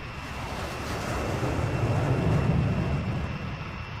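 A jet fighter in Ace Combat takes off with a broad, steady roar of engine thrust that swells through the middle and eases slightly toward the end, loud and continuous with no talk.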